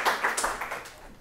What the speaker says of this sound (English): So Hannah Pretswell, I'd like you to give her a massive round of applause.